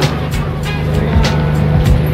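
A Honda Jazz RS GE8 hatchback pulls away, its engine note rising briefly beneath nearby ambient noise and faint voices.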